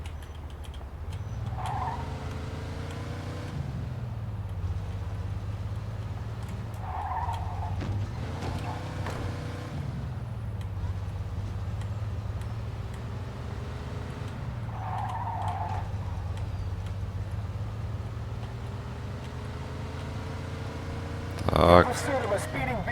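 Car in Mafia 2 driven hard, with a steady engine drone punctuated by repeated tire squeals and skids every few seconds and a louder thump near the end, while someone talks over the gameplay.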